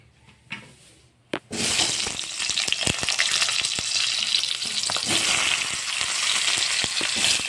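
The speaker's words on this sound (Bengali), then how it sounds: "এখন ওই কড়াইতে একটু তেল দিয়ে এখন আলুগুলো ভেজে নেব।" Potatoes dropped into hot oil in a wok burst into a loud, steady crackling sizzle after a few quiet clatters, with sharp pops and stirring knocks throughout.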